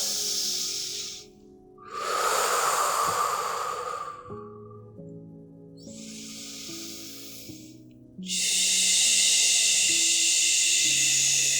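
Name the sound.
deep breathing during pregnancy yoga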